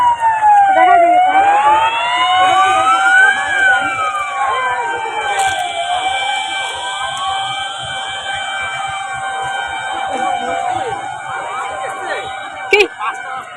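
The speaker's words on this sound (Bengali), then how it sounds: "এখানে দেখাচ্ছি তোমাদেরকে যে একটা সাইরেন" A loud siren wails near Jungle Baba Mandir, a temple between Siliguri and Bagdogra, its pitch sweeping up and down in slow cycles while voices talk nearby.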